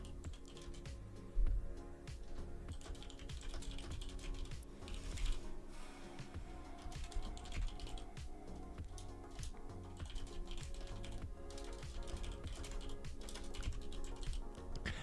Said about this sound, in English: I hate that my keyboard sound is getting through